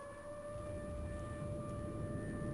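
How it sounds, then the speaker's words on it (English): An air raid siren wails in the video game Titanic: Adventure Out of Time, a steady, faint tone that holds throughout without a break. "Air raid siren."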